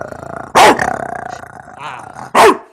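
A man imitates a dog's bark with his voice, two loud gruff barks separated by a low growling rumble, close and clear.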